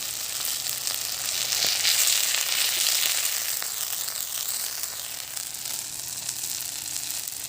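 Fish fries in sesame oil with a dense, steady crackling sizzle, close and fairly loud, swelling slightly then settling into an even hiss throughout.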